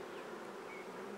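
Dense, steady buzzing of many honey bees balling into a heap around a queen on the comb, close and continuous, with no other sounds.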